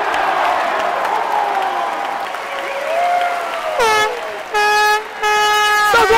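Air horn blown at a professional tennis match: a murmuring crowd gives way to three loud, sustained honking blasts close together at the end, with brief gaps between them.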